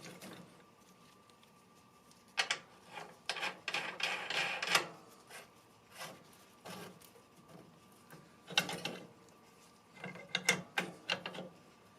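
A ratchet wrench tightens the nut on the pulley mount of a John Deere X320 lawn tractor, producing intermittent bursts of ratcheting clicks with pauses between them, fairly close and quiet, with no voices.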